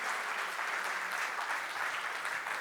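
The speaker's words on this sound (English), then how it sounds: "can we have a round of applause to this gentleman, please?" Audience applause closing a session at a GenAI and machine learning summit: steady, dense clapping from a sizable crowd, loud and even throughout with no talking over it.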